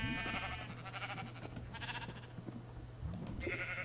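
Bleating sheep in Minecraft with a MythicMobs companion mod, a few short game bleats over a steady low hum and background game noise, fairly faint.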